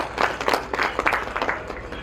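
Audience applause at a business conclave ceremony in India, heard as a burst of claps with uneven peaks across two seconds, moderately loud and fairly close, with no one talking over it.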